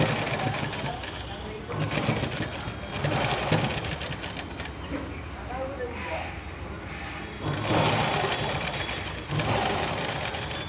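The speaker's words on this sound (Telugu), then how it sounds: "ఇలా హోల్డ్ చేసుకొని స్టిచ్ చేసుకోండి." A sewing machine stitching a blouse runs in bursts of fast, buzzing, rhythmic whirring, close and clear, pausing between runs while someone talks over it.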